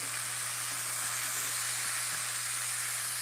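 Lamb chops sear in a hot pan on a stove, a steady, even sizzling hiss that holds without break, fairly quiet and with no voices.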